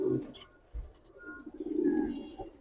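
Giribaz pigeons in a loft give soft, low cooing calls, a few murmuring coos close by in an otherwise quiet space.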